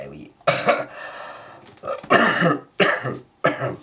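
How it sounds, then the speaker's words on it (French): Several sharp coughs in separate bursts with short pauses between them, close and fairly loud, with some throaty rasp and no speech. "Je tousse."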